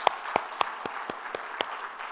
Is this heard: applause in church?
yes